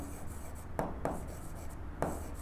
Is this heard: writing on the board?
yes